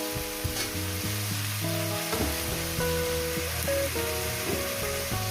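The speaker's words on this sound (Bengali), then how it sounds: "এটাকে আমি ভালো করে আরো 1 থেকে 2 মিনিট ভেজে নেব" Cumin seeds, ginger, garlic, green and dried chillies frying in hot oil in a pan for a chicken curry, a steady close sizzle and crackle with light stirring throughout.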